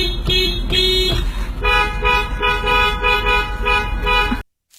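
Car horns honk repeatedly, a few short toots followed by a rapid series of rhythmic beeps, loud and close, then sudden silence.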